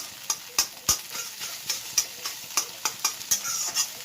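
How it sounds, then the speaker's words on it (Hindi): Egg frying in a pan, a close sizzle punctuated by a rapid, fairly regular series of spatula scrapes and taps, about a dozen in four seconds, with no voices. "एग को हम फ्राई करके निकाल लेते हैं"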